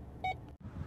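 A brief electronic beep pulses once from a 2013 Ford F-150 XLT reverse sensing system, a short tonal chirp standing clearly above a low background hum.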